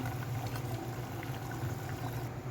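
Broth in a pot of tilapia and papaya curry, a steady bubbling, liquid wash with a low simmering hum, moderately loud and continuous, with no voices.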